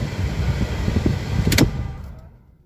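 A 2001–2003 Lexus LS430 with failed air conditioning is switched off: a steady engine hum, a short sharp mechanical click near the end, then the sound fades quickly into silence.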